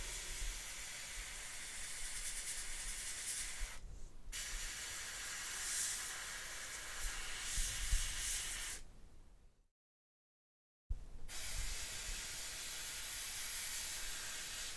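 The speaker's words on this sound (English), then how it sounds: "Notice how we're not having any problems spraying this color, because this color is so thin that there's no chance of it clogging the airbrush" An airbrush spraying thin flesh-tone paint gives a steady, close hiss that runs continuously, pausing briefly twice, with one full cutoff of about a second before the spray resumes.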